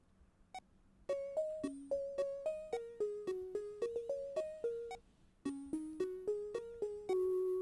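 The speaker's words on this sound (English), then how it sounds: "Just a kind of plonky background sound." A Sonicware Liven 8bit Warps synth plays a plonky chiptune background part, a quiet steady run of short bright stepped notes in even rhythm with a brief pause partway, faint and alone.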